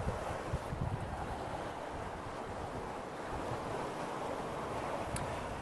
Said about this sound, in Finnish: Perään aalto, aina kun tulee tämmönen isompi